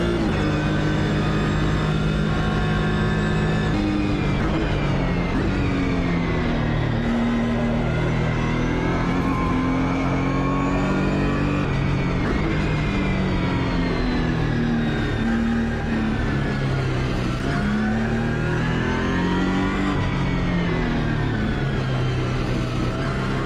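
A Ligier JS2-R race car engine drones continuously on the Nordschleife in the AMS2 racing game, its pitch rising and falling through the gears, loud and steady with no talk.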